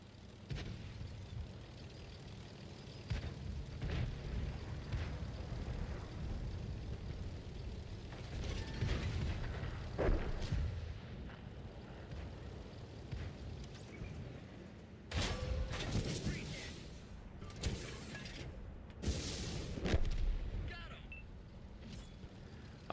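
Rocket blasts in a modern World of Tanks battle, with several heavy booming bursts over a constant rumbling, mechanical game background, and someone talking over it.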